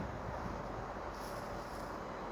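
Train at a station, a steady broadband rumble and hiss of a waiting or slowly moving train, close and continuous throughout, with no talk.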